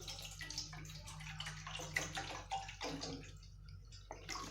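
Cold water is poured over red mullet fish in a kitchen, a faint, continuous trickling and splashing stream heard close by, with a low background hum.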